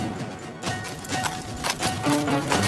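Horse hooves clip-clopping in an animated Hindi fairy tale as a prince's horse charges and rams a sorcerer, a steady trotting rhythm close up amid background music, with no voices.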